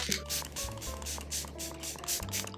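Several quick, hissing bursts of a makeup setting spray bottle misting in a steady rhythm, close and fairly soft, over faint music.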